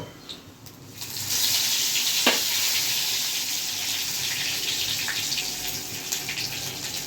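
Dry red chilies and curry leaves dropped into hot oil for a Gujarati tempering, giving a loud, steady hiss and crackle that sets in after a second and keeps sizzling throughout.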